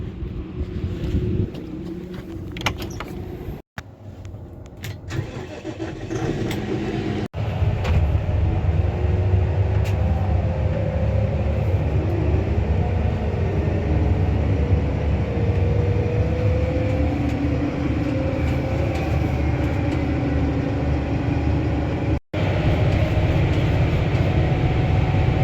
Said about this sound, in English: Get the pump tractor fired up here.